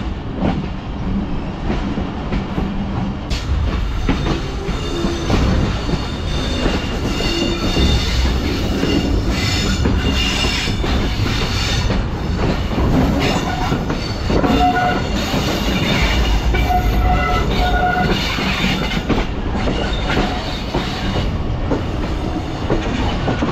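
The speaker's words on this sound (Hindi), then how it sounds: "ये मेरे ख्याल से रेल कार है।" A passing railcar train, the 104 Down service in Pakistan, rumbles loudly and steadily close by, with wheel clatter, occasional squeals and a brief horn note throughout, and no voices.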